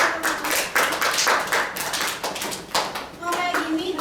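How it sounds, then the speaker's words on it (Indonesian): Classroom applause for classmates during a microteaching session, a dense patter of many hands clapping at close range, with children's voices chattering over it throughout. "Tepuk tangan dulu ya untuk teman-teman"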